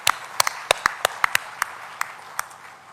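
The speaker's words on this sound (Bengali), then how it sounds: "তাদের উদ্দেশ্যে আমরা একটা হাততালি দিই" Sparse, scattered hand claps from an audience at the opening ceremony of the Amar Ekushey Book Fair 2025, about a dozen sharp separate claps rather than a full roar, moderately distant and thinning out toward the end.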